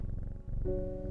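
Soft, rhythmic purring of a cat in the video game Strange Horticulture, a low fluttering rumble that is faint, close and steady, with a brief gentle tone entering partway.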